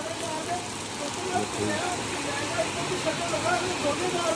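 Heavy rain pours steadily onto a roof at about 3 a.m. during a flood-relief stay, a dense continuous hiss with no breaks, close and fairly loud throughout.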